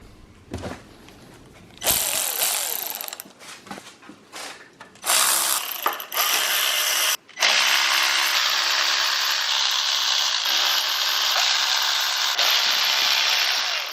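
A ratchet clicks in short bursts and then runs in a longer sustained stretch while undoing cylinder head bolts on a Honda Civic D16Z6 engine, close and fairly loud with pauses between turns.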